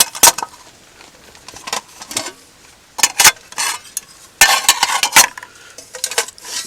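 Metal parts of a homemade alcohol stove clatter as it is taken apart, with sharp close clinks and scrapes in irregular bursts separated by short quiet gaps.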